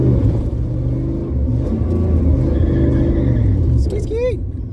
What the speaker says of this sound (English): I'm gonna race Mike next. Here we go, round 3.